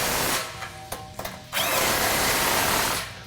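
A power tool tightens the exhaust clamps of a Gibson cat-back system on a 2015-2017 Ford Mustang GT: short bursts of whirring and ratcheting, then a sustained close, loud run lasting over a second.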